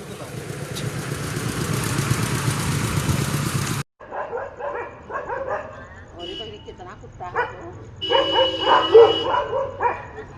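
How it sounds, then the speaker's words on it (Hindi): Street dogs in a residential block of Greater Noida bark repeatedly in sharp yapping bursts with some whimpers, loud and close, following a stretch of steady engine-like noise and mixed with people talking. "कुत्ते दौड़ा रहे हैं"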